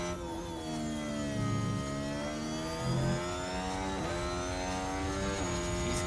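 Formula 1 car at the Mexico Grand Prix qualifying, a high engine whine sweeping upward through quick gear changes, loud and steady, with brief dips at each shift.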